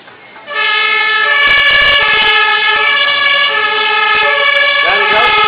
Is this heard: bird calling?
no